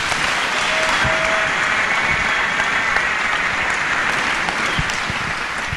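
A church congregation breaks into loud, sustained applause, a dense wash of many clapping hands filling the space without pause.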